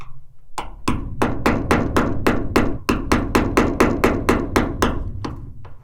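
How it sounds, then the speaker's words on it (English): Rapid, evenly spaced hammer taps on a customized scraper working along the rusty rain gutter channel of a 1996 Ford E-350 Econoline van roof, about fifteen sharp close metallic strikes in steady rhythm. "I'm gonna use a hammer and a scraper that I kind of customized a little bit to fit into the channel"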